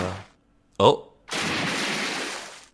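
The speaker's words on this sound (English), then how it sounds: "I heard a gunshot and then someone falling into water." A gunshot rings out in the Phoenix Wright Trilogy game: a short sharp crack, then after a pause a loud sustained burst of noise like something splashing into water, following a faint voice at the start.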